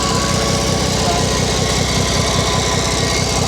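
A JAP 55 stationary petrol engine runs at a steady, rapid chug, loud and close, with no pauses throughout.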